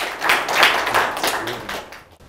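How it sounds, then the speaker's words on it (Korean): Audience in a university lecture hall clapping to welcome a traditional swordsmith, a short burst of applause that swells and then fades out. "우리 이은철 도검장님 박수를 환영해 주시기 바랍니다"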